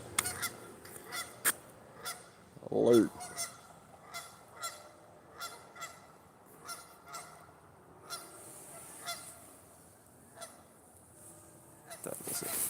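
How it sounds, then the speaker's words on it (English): Geese and ducks honk repeatedly at a steady pace during an outdoor walk, one louder close honk standing out among fainter calls. "Settle down, ducks and geese."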